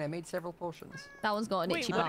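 A Minecraft cat gives a short meow partway through, nearly buried under near, continuous talking from a player.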